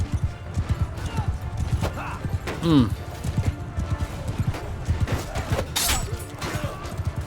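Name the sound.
horses in Mount & Blade II Bannerlord video game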